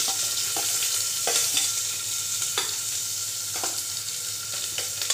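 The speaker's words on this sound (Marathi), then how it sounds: "आता कुकरमध्ये फोडणीची तयारी चालू आहे" Onion sizzles and fries in a hot tempering of mustard seeds, cumin and garlic inside a pressure cooker, a steady close crackle broken by periodic spoon-stirring scrapes, with no talking.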